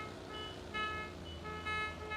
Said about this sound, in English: Friendly honking there.